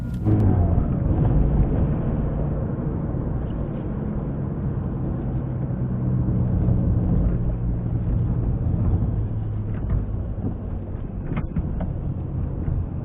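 Steady engine drone and road rumble from an Audi A3 TDI on its first drive with a newly fitted clutch and single-mass flywheel conversion, loud and continuous from inside the car with no talk.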